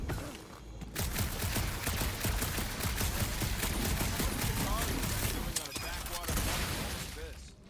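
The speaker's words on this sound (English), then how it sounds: "You do know that aimless shooting isn't gonna scare the monsters away, right?" Dense, continuous rapid gunfire blasts at monsters in Guardians of the Galaxy, loud and close, with a short break near the end and voices talking under the shooting.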